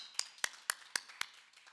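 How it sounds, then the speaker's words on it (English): Five sharp, evenly spaced hand claps, faint and distant, welcoming a newly installed club president at an installation ceremony, with no voices. "Join me to give another applause of welcoming our new club president"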